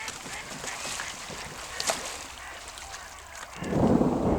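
A flock of geese and ducks at a Greek lake honk and quack in a loose, distant chorus over steady outdoor ambience, with a louder low rumble swelling near the end.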